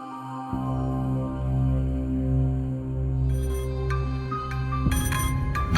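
A phone rings with a repeating electronic ringtone melody, loud and close, playing continuously on its own.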